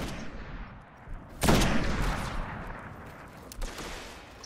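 Gunfire in the shooter video game Destiny, a burst of shots swelling loudly in the middle and trailing off with scattered rumbling reports.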